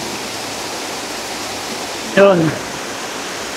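Steady broadband rush of water pouring over Kaypuso Falls, a hidden waterfall in Bailen, Cavite, heard close and constant, with a brief spoken word cutting in near the end.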